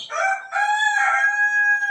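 A native village rooster on a poultry farm crows loudly and up close, giving one long, drawn-out call that rises and holds.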